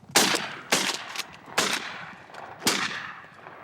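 Shotgun blasts during a late-season open-water goose hunt: four sharp, loud reports spaced about a second apart, each with a short outdoor decay, and no talking.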